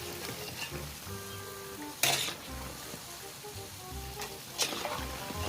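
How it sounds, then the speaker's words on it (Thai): A salty sesame filling is stirred in a hot pan, a quiet continuous sizzle with a couple of brisk scraping strokes of the spatula and faint clinks, heard up close. "มาคนให้มันเหลืองเสมอเท่ากันอีกทีนึงนะครับ"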